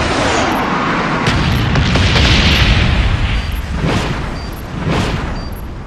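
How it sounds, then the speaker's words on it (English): A napalm strike in a video game hits with a series of heavy booms and rolling explosions, several loud blasts rumbling one after another with no voices. "Friendly napalm strike on the way."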